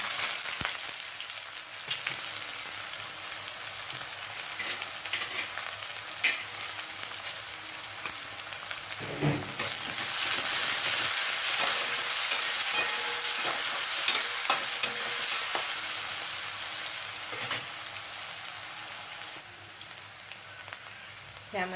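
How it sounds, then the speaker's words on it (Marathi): Onion, cumin and curry leaves frying in oil with crackling mustard seeds, a steady sizzle with scattered pops and stirring scrapes, swelling louder midway as fresh ingredients hit the pan. "मोहरी तडतडलेली आहे ह्यामध्ये घालते जिरं ह्यामध्ये घालते कढीपत्ता ह्यामध्ये घालते कांदा"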